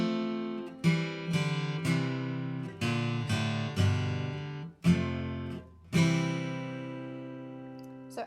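A lone guitar strums an instrumental break, a handful of ringing chord hits spaced about a second apart, each decaying before the next, played close with no talking.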